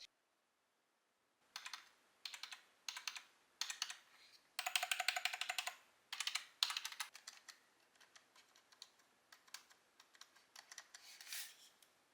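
Typing on a Logitech K480 keyboard: after a quiet start, close, crisp keystrokes arrive in short rapid bursts separated by brief pauses, then settle into steadier scattered clicking, with no voices.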